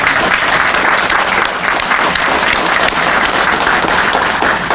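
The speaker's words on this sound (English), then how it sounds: "raise your hand so we can applaud you" Steady, loud applause from an audience at a renovated branch library's opening ceremony, honoring the architects, dense clapping continuing evenly throughout without a break.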